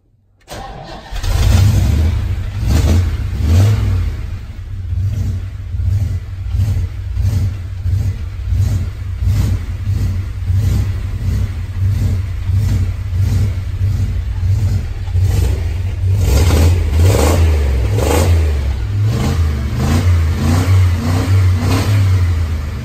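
An old Ford F truck with a blower cranks and catches, then its engine revs repeatedly in loud, close bursts over a rough idle, sputtering unevenly.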